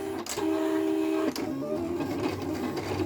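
A Silhouette cutting machine slices cardstock on a Pixscan mat, giving off a steady robotic motor whine that stops briefly partway through, then resumes with a rougher mechanical hum, close and alone without voices.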